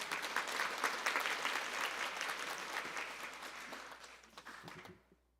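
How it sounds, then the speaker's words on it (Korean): A church congregation at a Sunday service for a 78-year-old church applauds steadily, a dense indoor clapping that holds evenly and then tapers off and stops near the end. "저와 함께 감사의 박수를 드리도록 하겠습니다"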